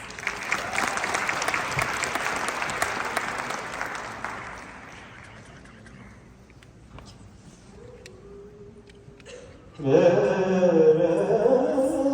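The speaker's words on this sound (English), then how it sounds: "Please welcome them with a huge round of applause" A large audience claps loudly and steadily in a hall at an India Day celebration in Edmonton, the applause fading gradually over several seconds before music abruptly starts.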